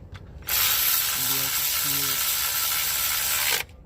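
A hand ratchet snugs bolts on a cooling fan pulley bracket, producing one loud, close, steady run of rapid clicking that lasts about three seconds, with faint talk in the background.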